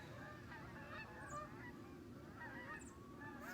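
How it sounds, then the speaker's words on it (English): Geese honk repeatedly at a distance outdoors, their calls coming in scattered bursts over a steady wash of background noise. "Here come the geese again."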